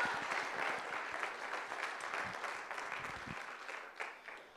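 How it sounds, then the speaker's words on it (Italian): A church congregation gives a preacher a warm round of applause, dense clapping that is fairly quiet overall and slowly thins toward the end. "Vogliamo fargli un forte applauso."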